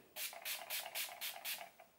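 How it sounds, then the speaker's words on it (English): Six or seven quick, close bursts of makeup setting spray onto a beauty sponge hiss in a steady rhythm, each a short airy puff, with no talking. "So now I'm just going to re-dampen my beauty blender with a little bit of setting spray."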